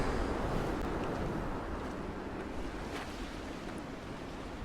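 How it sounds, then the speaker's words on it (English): Sea waves surging in the Dear Esther video game, a steady broadband roar of surf with a wind-like wash, continuous and fairly loud throughout with no talk. "Oh, it's just the waves."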